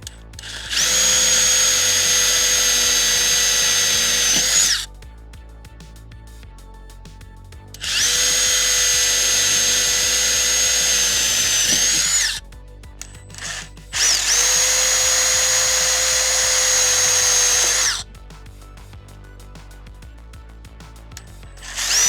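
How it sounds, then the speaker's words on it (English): Three loud, sustained bursts from a power drill boring screw holes in a trailer, each lasting several seconds with a steady high whine, separated by quieter gaps of handling and clicks, close up with no talking. "So we're gonna drill the holes and then we're gonna install it."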